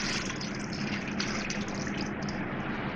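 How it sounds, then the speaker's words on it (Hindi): Water pours steadily into a cooking pot holding salt, onion, garlic, ginger and whole spices, a continuous splashing gush that stays even and fairly quiet throughout. "पानी डालूँगी इसमें।"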